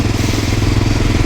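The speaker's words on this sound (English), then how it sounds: "It sounds like the engine is screaming." A 1988 Honda Dominator motorcycle engine revs high at about 3,500 rpm, a continuous loud, close mechanical drone with a steady throbbing pulse and no pauses.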